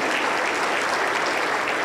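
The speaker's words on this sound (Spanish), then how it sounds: "Aplauso para el Señor Jesús." A church congregation claps together in praise during a Spanish-language healing service, dense steady applause filling the whole moment, loud and close with no talk over it.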